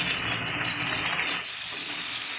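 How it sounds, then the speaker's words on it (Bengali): Shrimp sizzle and fry in a pan with salt and turmeric, a steady close hiss of hot oil with no talk. "চিংড়ি মাছ কড়াইতে দিয়েছি, দিয়ে দিচ্ছি একটু লবণ"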